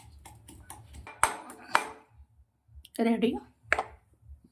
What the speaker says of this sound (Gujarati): સૂકું લસણ, લીલા મરચાં, બે થોડા ધાણા છે અને કૂટી હું પેસ્ટ બનાવી દેવાની છું. ખાંડણીનો ઉપયોગ કર્યો છે.